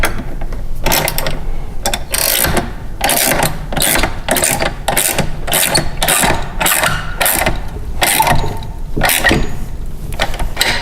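A hand ratchet clicks in quick repeated bursts as bolts are tightened on a Toro Recycler CheckMate striping kit fitted to a mower. The clicking is loud, close and steady, with no talking.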